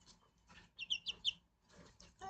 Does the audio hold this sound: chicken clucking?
yes